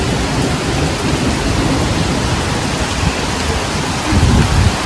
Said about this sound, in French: C'est l'orage le mercredi